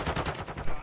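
Rapid automatic gunfire from Call of Duty MW2 ranked play, a quick train of sharp shots packed into under a second, moderately loud.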